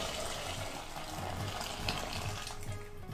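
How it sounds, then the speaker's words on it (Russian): Hot water pours steadily over chicken feet in a bowl, a continuous close gushing wash with no talk. "Сверху заливаем их горячей водой."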